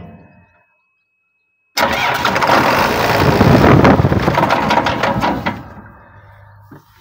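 A John Deere 2264 combine harvester engine cranks over and catches abruptly after a quiet pause, roaring loudly and steadily up close for several seconds before easing down to a lower idle.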